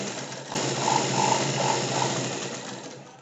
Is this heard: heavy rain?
no